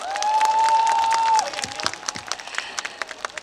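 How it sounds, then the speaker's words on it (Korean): An outdoor audience at a cherry blossom festival claps after a performance; a held sung or instrumental note gives way to scattered, sharp individual claps that thin out. "문희용님이 다시 한 번 뜨거운 박수 부탁드리겠습니다."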